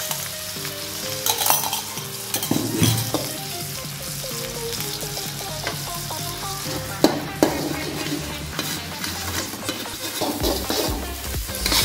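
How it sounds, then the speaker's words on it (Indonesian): Meatballs and beaten egg sizzle in a frying pan while being stirred, a continuous close hiss with scattered scrapes and one sharp clank of utensil on metal midway. "Selanjutnya kita masukkan baksonya. Dan telurnya yang sudah dicampur."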